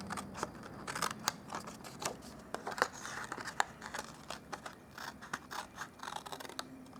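Scissors cutting through paper card for a Stampin' Up punch-art Christmas reindeer gift box, a close run of quick crisp snips and light crinkles repeating steadily with no talking.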